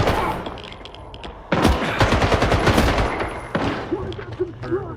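Gunfire in STALKER 2 sounds as rapid automatic bursts, loud and close, with a tense ambient bed before it and a dense volley erupting partway through, followed by trailing shots.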